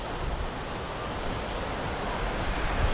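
Ocean surf at Dream Beach on Nusa Lembongan, Bali, forms a steady, dense wash of breaking waves with a constant roar and light wind buffeting, unbroken and free of any voices.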